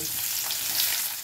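Onion frying in oil in the pan that earlier held a hilsa fish head, giving a dense, close crackling sizzle that holds steady for a moment and then eases slightly, with no talking.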